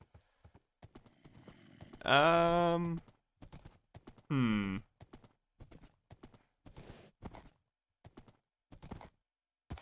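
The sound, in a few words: horse trotting hooves, from a video game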